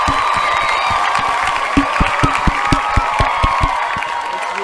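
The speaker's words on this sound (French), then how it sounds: "On l'applaudit." A studio audience at a French entertainment show claps in steady, rhythmic unison for an arriving expert guest, a dense crowd wash with a sharp beat roughly every quarter second, loud and close throughout.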